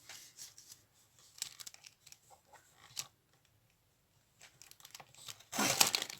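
Scissors cut paper for a small art journal in a series of crisp, close snips and rustles, followed by a burst of louder paper crinkling and crumpling at the end.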